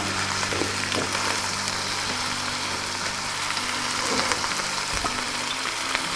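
Rapini cooks in olive oil in a pan, giving off a steady, close sizzle with faint crackles and a low background hum, with no talking.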